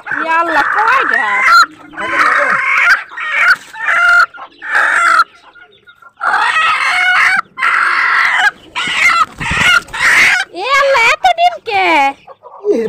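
Chickens cluck loudly and a rooster crows nearby in short bursts, with people talking among the birds.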